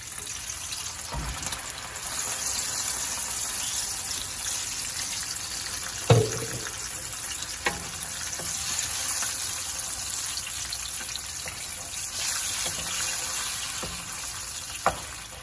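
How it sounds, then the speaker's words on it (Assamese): Tomatoes with tomato puree fry in a pan with a steady soft sizzle, broken by a few sharp clinks and scrapes of a utensil stirring against the pan. "এতিয়া এইখিনি এনেকৈ অলপ দেৰি লৰাই থাকিব লাগিব যেতিয়ালৈকে বিলাহীখিনি ভালকৈ ফ্ৰাই হৈ নাযায়"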